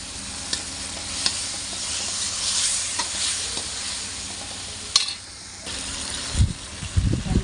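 A pot of food on a rolling boil gives off a steady bubbling hiss, with a few clicks and knocks and some low handling thumps near the end.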